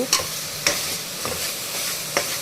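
Bottle gourd fries over high heat in a pan, a steady sizzle broken by a few sharp scraping stirs, close and alone with no talking.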